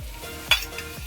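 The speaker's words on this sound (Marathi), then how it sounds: "हे चांगल्या प्रकारे परत एकदा चांगल्या व्यवस्थित परतून घ्यायचं आहे" Spices frying in a pan, a short close burst of sizzling with a single sharp scrape of a spoon stirring partway through, no voices.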